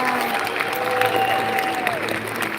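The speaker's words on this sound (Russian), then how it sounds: "Еще раз ваши бурные аплодисменты." A crowd at a corporate company event applauds heartily, with continuous clapping and some cheering while voices carry over the steady applause.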